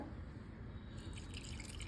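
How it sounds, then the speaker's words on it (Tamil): Water is poured into a pan of jaggery for coconut kozhukattai filling, a faint, steady trickle and drip that brightens halfway through, with no talking. "கொஞ்சமாக தண்ணி விட்டு"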